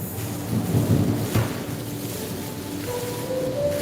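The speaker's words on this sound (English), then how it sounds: "I love the rain, dude. I love storms." Rumbling thunder rolls through a steady wash of rain, with a louder low boom early on and a sharp crack near the middle.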